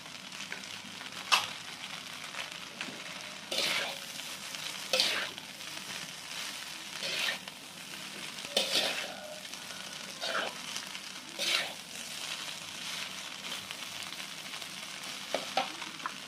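Mushrooms stir-fried in a pan for a rice-vermicelli dish, a quiet soft sizzle beneath recurring scraping strokes of a spatula every second or two; no speech.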